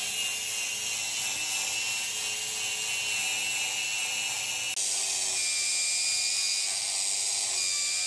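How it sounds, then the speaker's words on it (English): Metal around the spot welds on a Camaro body is sanded with a power tool that whines steadily and loudly at close range, and its pitch shifts partway through. No one speaks. "You kind of sand until you see that little spot weld right there start popping"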